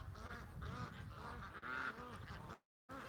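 Ducks at a pond, white ducks among them, quack steadily in an overlapping chorus nearby, then the sound cuts out briefly before resuming.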